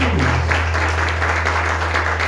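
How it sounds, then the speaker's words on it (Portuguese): Sustained applause from a church congregation, dense steady clapping over a constant low hum, no voices standing out. "Palmas para Jesus."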